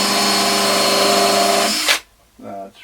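Power drill boring a pocket hole through a Katsu pocket hole jig, a loud sustained whine that cuts off abruptly, followed by a brief quieter spin-down or handling noise.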